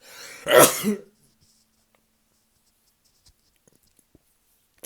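A single sharp cough close by, followed by near silence with a few faint clicks.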